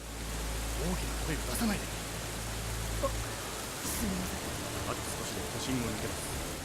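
Steady rain in the video game Steins;Gate 0 hisses throughout at moderate level, with scattered faint voices and brief chirpy sounds rising above the downpour.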